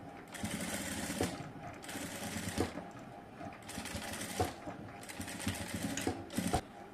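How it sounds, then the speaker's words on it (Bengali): Sewing machine stitching a folded hem on a front cut kurti, several steady whirring runs of stitching broken by short pauses, close and clear. "ভাঁজ করে তারপরে হচ্ছে সেলাইটা এখানে হচ্ছে শেষ করব।"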